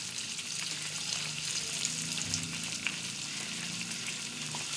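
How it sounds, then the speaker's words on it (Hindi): Desi ghee goes into sohan halwa cooking in a pan, raising a steady, even sizzle of hot fat that hisses continuously at close range, with no voices. "और अब हम इसमें डालेंगे देसी घी। देसी घी हमने लिया है 150 ग्राम।"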